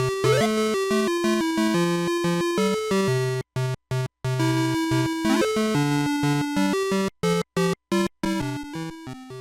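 Cavit, a Dig Dug-style homebrew game on the TI-99 computer, plays bright square-wave chiptune music: a bouncy melody over bass notes, loud and alone, broken by a few short bursts of silence.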